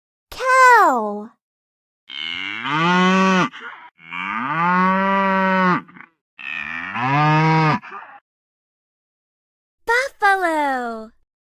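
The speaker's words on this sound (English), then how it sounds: "Cow." A cow mooing loudly and close, several long drawn-out moos separated by pauses, with a higher voice naming the animal at the start and end.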